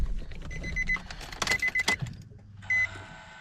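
A car being restarted after harness and interior work gives several rapid chime dings amid clicks and rustle, then a steady low whir as the fuel pump primes, with one more ding over it.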